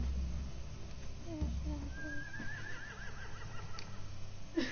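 Horses whinny in a tense night scene from the final season of The Walking Dead video game, with one wavering, rising-and-falling neigh standing out over low ambient rumble and scattered game sounds.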